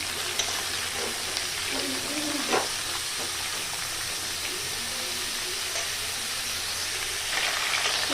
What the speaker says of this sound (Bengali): চিচিঙ্গাগুলোকে আমি হালকা করে একটু ভেজে নেব।